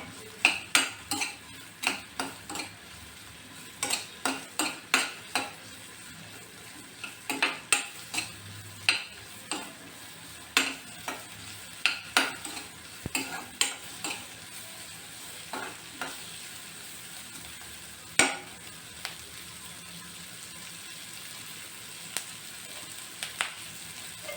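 Native garlic frying in a pan for broccoli almond soup, with steady sizzle under repeated sharp clinks and scrapes of a utensil stirring against the metal pan, close and busy throughout with no talk.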